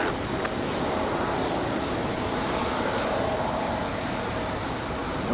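An Airbus A220 jet climbs out at night from Raleigh-Durham airport, its engine roar a loud, steady, broadband rumble that holds evenly throughout.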